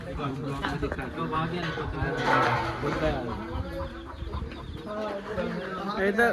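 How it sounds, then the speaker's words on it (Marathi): Farm chickens at Jaawalkar Farms clucking and squawking as they are caught, mixed under lively nearby talk from several people. "अब आप देख सकते हो पकड़ रहे हैं हम मुर्गी"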